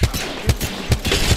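Apex Legends gunfire: four evenly spaced heavy shots roughly every 0.4 seconds, punchy and close with low booming thumps over a faint game background.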